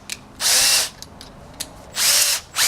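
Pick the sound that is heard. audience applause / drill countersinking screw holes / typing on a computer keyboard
drill countersinking screw holes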